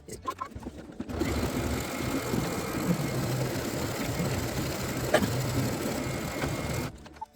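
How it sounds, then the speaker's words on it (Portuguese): Embroidery machine tacking the main fabric down onto a stabilizer while making a bee appliqué with a magnetic button, a steady mechanical whirr running from about one second almost to the end. "na etapa azul, a máquina vai fazer a fixação desse tecido"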